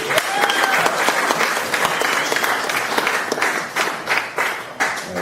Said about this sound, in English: Can we get a big round of applause for everybody that's gone up so far and performed